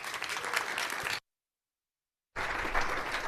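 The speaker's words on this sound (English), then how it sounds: "let's give a nice round of applause to Professor Berta-Thompson" Audience applause at a physics colloquium, dense crowd clapping that cuts to silence for about a second and then resumes just as full.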